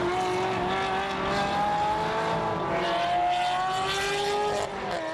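Honda NSX Type R, a GT3 and other race cars launching off the start at Fuji, several engines revving hard and rising in pitch together, loud and close, dropping off slightly at the end.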